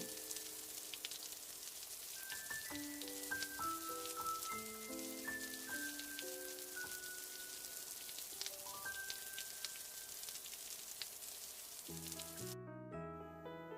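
Faint steady rain falling, a soft continuous hiss under a gentle melodic tune of plucked or chiming notes, ending with a short rising run of tones.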